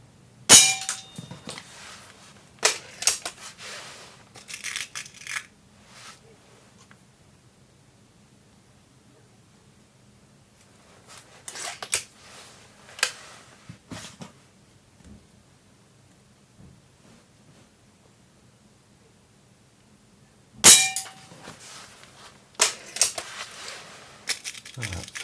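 Air rifle shots fired over a chronograph, in a comparison of Weihrauch HW99S and HW77K, Gamo Swarm and Remington Express rifles: sharp percussive cracks in scattered bursts, each with a brief metallic ring, separated by long near-silent gaps.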